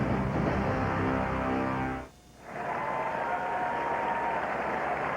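A sold-out baseball crowd at Fenway Park fills the air with a steady, dense roar that briefly drops away for a moment before swelling back to a constant wash of noise.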